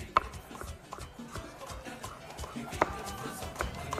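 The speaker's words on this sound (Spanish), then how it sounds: "vamos a ir picando ya lo del aguacate, miren. Entonces, vamos a agregar cebollina." A knife chops avocado and chives on a board in a television cooking segment, giving soft, quick, irregular taps with a few sharper knocks, fairly quiet over low kitchen background noise.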